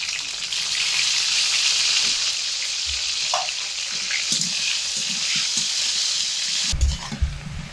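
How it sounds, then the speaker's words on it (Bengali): Potatoes fry in hot oil in a home kitchen, giving a steady close sizzle throughout, with a few faint clinks and stirring knocks and a louder bump near the end. "তিন থেকে 4 মিনিট সময় ধরে আলু ভাজা হয়ে গেছে।"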